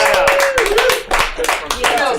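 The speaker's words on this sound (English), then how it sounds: "give him a round of applause" Audience clapping for a comedian at a live comedy show, a steady round of hand claps from a small crowd, close and fairly loud, running under someone speaking over the applause.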